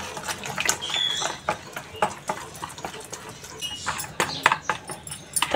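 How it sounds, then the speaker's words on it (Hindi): Semolina batter with salt, oil and water is beaten by hand, giving irregular wet clicks and taps of a utensil against the bowl in quick uneven bursts, close and fairly quiet. "अब इसे ये अच्छी तरह से फेंट लेना है।"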